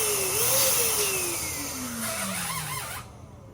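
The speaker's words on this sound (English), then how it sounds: "Got a little bit too much air out of that. Blow it up a little bit more." An electric air pump inflating a latex balloon for a balloon centerpiece, a close steady motorized whine with a drifting pitch that cuts off near the end, followed by quiet room tone.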